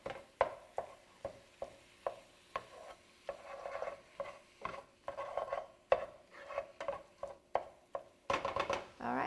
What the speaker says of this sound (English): Let me give this a couple more mixes with the mix and chop.